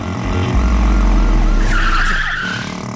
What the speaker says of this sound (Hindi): चल राइट मोड़ गाड़ी।